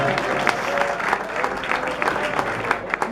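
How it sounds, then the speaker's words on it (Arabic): Wedding guests in Tangier clap during a comedy sketch, a loud close burst of crowd applause with sharp, somewhat rhythmic hand claps over a busy hall murmur. "صفقوا على قطيعوس"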